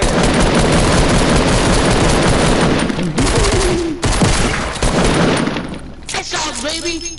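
Gunfire in an online shooter game: dense, loud automatic bursts fill the first few seconds, then sparser shots follow while someone shouts excitedly over the noise.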